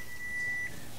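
A kitchen timer for baking sandwich bread gives a single sustained electronic beep, thin and steady for most of a second, against quiet room noise.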